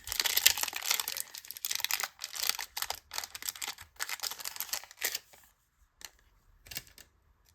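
Pokémon card booster packs from a Team Rocket Moltres ex box are torn open and handled up close, with bursts of crisp foil crinkling and tearing, then sparser rustles and taps as the cards come out.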